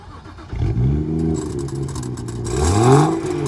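BMW 335i exhaust: the engine fires up with a loud startup flare, settles briefly, then a short rising rev swells and falls back, close and unaccompanied by talk.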